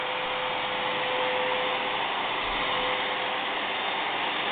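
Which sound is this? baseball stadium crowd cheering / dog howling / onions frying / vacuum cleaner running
vacuum cleaner running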